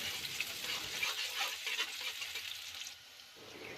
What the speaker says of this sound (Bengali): তেলটা গরম হয়ে আসলে এখানে আমি পেঁয়াজ কুচি দিয়ে দিলাম।